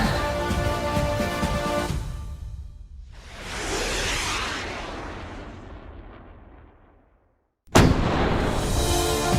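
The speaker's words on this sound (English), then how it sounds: "if I fire a rocket, it's going to explode just before it hits the Earth" A rocket fired and exploding: a heavy blast and rumble, then a long swelling whoosh that fades to near silence, followed by a sudden loud burst of explosion noise at the end.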